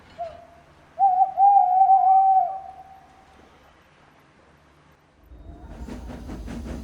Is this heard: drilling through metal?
no